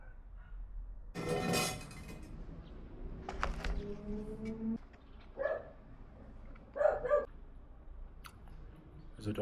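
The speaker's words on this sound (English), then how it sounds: "There's a dog here" A dog at a conference venue makes a few short, fairly quiet barks and vocal sounds scattered amid background room noise and rustling, with gaps of relative quiet between them.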